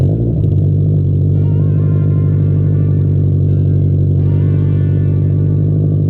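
A 2005 Subaru STI with a six-cylinder engine running smoothly while driving, a deep steady rumble with a layered harmonic drone, loud and close with a slight pitch shift midway, no voices.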